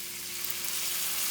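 Steady frying sizzle as white wine hits a hot pasta pot after prosciutto, a continuous bright hiss with a faint low hum beneath, close and even throughout.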